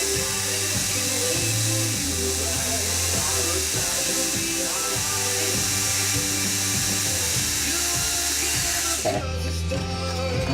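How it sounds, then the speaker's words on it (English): An electric drill bores a hole in an Eagle 580 ARF model airplane, a steady high whine running almost unbroken for about nine seconds before cutting off. "And then I'll push it up and drill that one."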